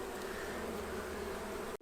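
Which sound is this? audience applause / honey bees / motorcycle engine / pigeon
honey bees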